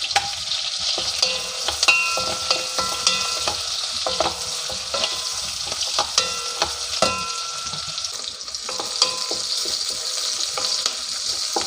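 Onions sizzle steadily in a pan for prawn curry, with repeated scraping stir strokes throughout, close and fairly loud, with no talking.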